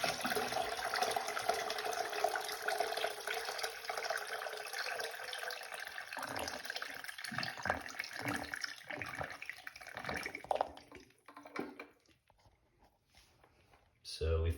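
Toilet flush on a bowl partially drained to avoid overflow, a steady rushing of water that runs loud for about ten seconds before tapering off, with a person talking over it.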